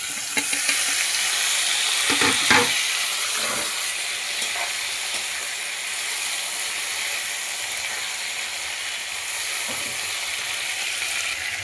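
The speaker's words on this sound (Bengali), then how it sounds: "এবার দেবো টমেটো কুচি।" Chopped tomatoes hiss and crackle in a hot pan for an egg and cauliflower curry, with several scraping stirs early on and a few more later, the sizzle continuing steadily throughout.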